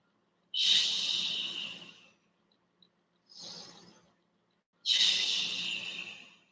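Three slow, deep breaths during a yoga flow, heard close and alone in silence. Two long, strong exhales frame a softer, shorter one between them.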